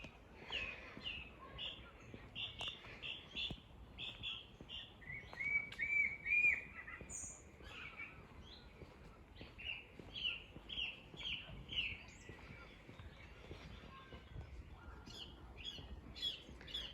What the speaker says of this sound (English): And you're just surrounded by all this birdsong as well.